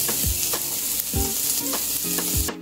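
Chopped onion sautéing in rendered pork fat in a pan, a continuous loud sizzle with rhythmic scraping strokes of a spatula about every half second, close and without speech.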